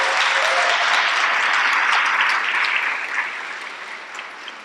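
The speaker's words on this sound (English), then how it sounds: "Give yourselves a big round of applause." A packed auditorium of students breaks into loud, bright applause at a citywide youth showcase, a thick wall of clapping that gradually thins and fades over the last couple of seconds.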